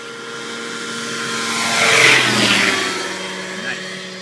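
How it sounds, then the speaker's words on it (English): A model airplane flies low past with its motor screaming at high pitch, swelling as it nears and fading away. Loud throughout, with a slight pitch shift as it passes overhead. "Listen to that motor, just a screaming along there."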